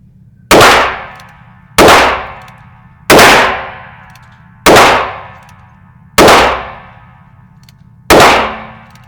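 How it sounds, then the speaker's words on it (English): Six loud, close gunshots from a Ruger Super Blackhawk .44 Magnum revolver, evenly spaced about one and a half seconds apart, each a sharp blast with a ringing decay, over a low steady hum. "testing the bear gun, Ruger Super Blackhawk 44 Magnum"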